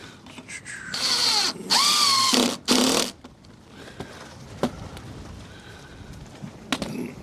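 A power drill runs in a few short bursts, rising and falling in pitch as it drives fasteners to mount a joist hanger on a wooden shed ramp, followed by quieter scraping and handling sounds.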